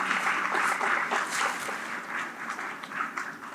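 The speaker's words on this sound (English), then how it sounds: "let's give all of our award recipients a real big Cleveland round of applause to say thank you" Audience applause for award recipients at a police community relations awards ceremony, a dense, steady round of clapping that fades slightly toward the end.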